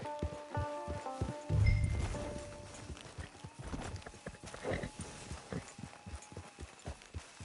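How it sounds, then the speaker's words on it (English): Steady clip-clop of horse hooves trotting along at an even rhythm in Red Dead Redemption 2, with a brief snort and some faint voices and ambient tones underneath. "It's your horse."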